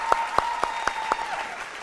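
Several sharp, evenly spaced claps ring out one after another, about five in a steady rhythm, sounding like a small group clapping, from a TV show studio audience.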